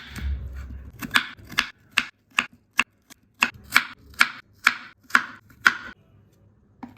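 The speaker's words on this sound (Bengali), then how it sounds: "আমি একটা ছোট সাইজের শসা নিয়েছি। এবার এটাকে আমি চপ করব" A knife chops a small cucumber on a board, about a dozen crisp, close, evenly paced cuts in a steady rhythm, with no voices.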